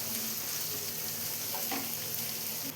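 Shallots and dried chillies sauté in a pan for a crushed prawn dish, a brief, dense, close sizzle with a faint stir near the end, no voices.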